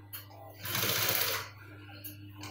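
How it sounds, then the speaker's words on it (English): A sewing machine stitches two layers of fabric together while making a cargo pocket, running in one loud burst of about a second between quieter moments with faint background sound. "So I'm just sewing it on each other."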